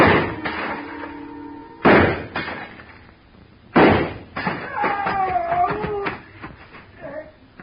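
Radio drama gunfire inside a store, with shots aimed at a glass showcase: three loud, sharp bangs about two seconds apart, separated by quieter rumble and tonal sounds.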